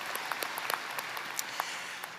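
An audience at a Veterans of Foreign Wars business session honoring a veterans' honor guard team, clapping in a steady, moderate round of applause heard from a short distance.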